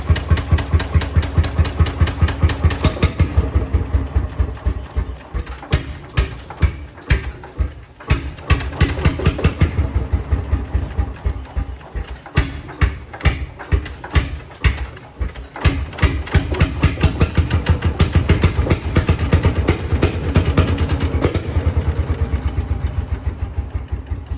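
An old Lanz Bulldog 7506 tractor engine chugs steadily up close, its rough, rhythmic knocking repeating evenly and loudly from start to finish with no voices.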